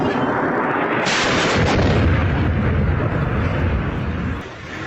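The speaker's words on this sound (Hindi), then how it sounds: "ये बड़ा धमाका और आवाज आप जरा सुनिए" A big explosion from an attack in Syria booms out, followed by a sustained roaring rumble that slowly fades, loud and heavy throughout.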